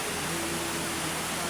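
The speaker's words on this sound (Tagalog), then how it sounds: "Sobrang lakas ng ulan." Heavy rain pours down steadily in a dense, constant wash of noise that is loud and close, with no pauses and no voices.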